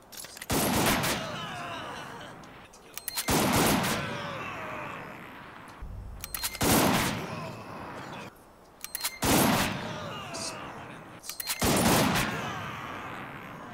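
Sniper rifle fire in the WW2 strategy video game Headquarters WW2 comes as five loud, well-spaced shots, each with a booming report and a trailing rumble over battlefield ambience.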